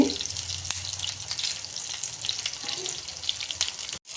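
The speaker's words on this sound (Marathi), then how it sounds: "हे मासे आपल्याला पाच मिनटं फ्राय करायचे" Fish fillets frying in a pan, a dense, even hiss of hot oil up close with faint bubbling and a soft scrape or two, cutting out abruptly near the end, with no one talking.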